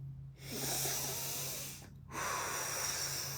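Deep, steady breathing during a hip-stretching routine: a long, airy breath sound holds for over a second, a brief pause follows, then another sustained breath, close and clear with no talking.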